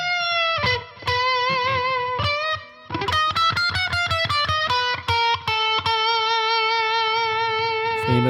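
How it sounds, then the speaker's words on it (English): Parker P38 electric guitar with heavy distortion playing a riff of sustained chords and quick choppy strums, loud and close, with brief gaps between phrases. "Now we got distortion on the position 4."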